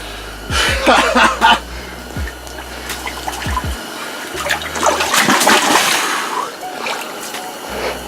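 A roughly 20-pound lake trout is released back into a lake, with water splashing and trickling near the boat in bursts of splashes, and people talking briefly over it.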